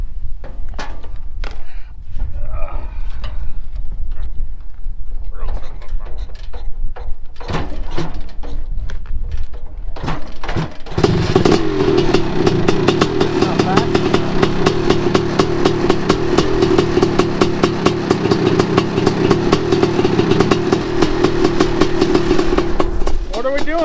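A racing lawn mower fitted with a Honda CR500 two-stroke engine kicks and sputters, then catches and runs loud and raw with a steady rasping drone, while people talk nearby.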